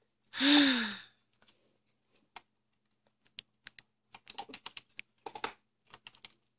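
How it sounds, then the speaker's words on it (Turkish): A breathy sigh opens, then a computer keyboard clicks in short, irregular bursts of typing during Wolfteam gameplay, close and fairly quiet. "Ya klavye sesi geliyorsa affedin."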